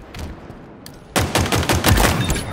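Rapid bursts of automatic gunfire in the video game Halo Infinite, loud and close, starting suddenly after a quieter stretch and continuing in clustered shots.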